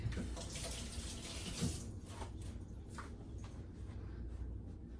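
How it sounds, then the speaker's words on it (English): Hands being rinsed under a running kitchen tap while cooking a French omelette, a steady close splash of water that fills the whole stretch with small shifts as the hands move through the stream. "let me rinse my hands real quick"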